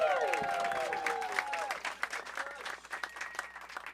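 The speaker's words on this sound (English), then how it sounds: "Start clapping right now for DJ Ripsky, everybody." Audience at a comedy showcase clapping for a comedian: scattered applause and cheers, loudest at the start and then thinning out, with overlapping voices calling out.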